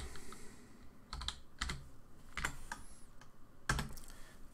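Keys clacking on a computer keyboard as a folder name is typed in an Amiga emulator setup, several distinct, fairly quiet keystrokes spaced irregularly over a soft background hiss.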